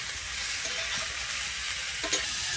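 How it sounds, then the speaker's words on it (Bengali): Cauliflower florets fry in a pan with salt and turmeric, giving a steady close sizzle with a couple of light stirring knocks, and no voices. "আমি খুব ভালোভাবে মিশিয়ে এবারে আমি ফুলকপিটাকে কিন্তু লাল করে ভেজে নেব।"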